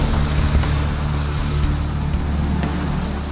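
German air rescue helicopter flying with a steady, loud rotor and engine drone, carrying an injured motorcyclist to a clinic in Freiburg from the Feldberg area of the Black Forest.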